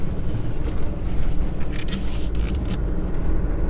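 A 2021 RAM 4500 truck on an 84-inch chassis drives a full tight circle, its constant engine rumble close and loud with gusty wind noise on the microphone.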